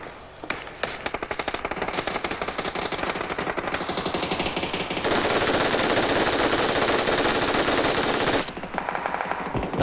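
Rapid automatic gunfire in a shooter video game, loud and continuous bursts of close shots running for several seconds, then a denser sustained stretch of fire before the rattling bursts resume.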